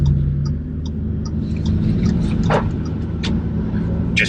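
An Audi S3 drives around the block, its engine and road rumble holding a steady low drone close by, with light ticks and brief rattles over the top.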